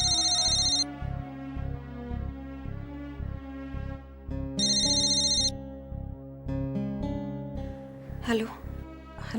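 A telephone rings on an outgoing call in a Marathi TV drama scene: repeated electronic ring bursts at regular intervals over steady tonal background music.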